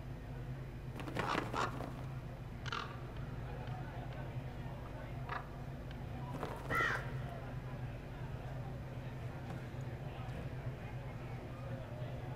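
Crows caw in Dragon Age Inquisition, a few scattered harsh calls at a middling distance over a low, steady ambient hum, faint and intermittent.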